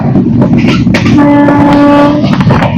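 The Tamralipta Express runs through Golbagda station on the Digha to Howrah line. A steady, loud rolling rumble fills the whole stretch, and a sustained horn tone sounds in the middle.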